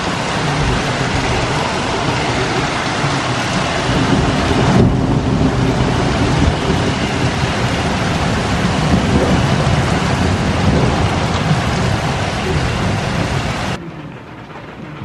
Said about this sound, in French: la grêle, la pluie, ça pleut fort